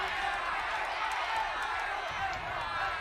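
Esports audience at the PMSL SEA finals for PUBG Mobile, a steady crowd roar with cheering running under fast commentary.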